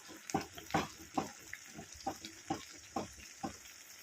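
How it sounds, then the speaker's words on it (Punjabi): Grated carrots for carrot halwa roast in ghee with soft sizzling. Rhythmic stirring scrapes repeat roughly every half second, fairly close and quiet. "ਇਹ ਘਿਓ ਦੇ ਵਿੱਚ ਹੀ ਭੁੰਨ ਲੈਣਾ ਹੁੰਦਾ"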